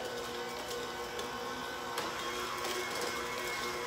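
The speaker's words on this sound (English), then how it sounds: "Back with the mixer." An electric mixer beats red velvet cake batter in a home kitchen, a steady whirring motor hum with a few faint knocks against the bowl, close and unbroken, with no one talking.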